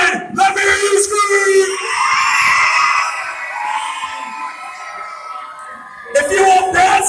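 An audience at a live contest screams and cheers in one sustained wave of loud, high-pitched shouting and yelling that swells, holds for several seconds, then fades before another burst of crowd noise rises at the end.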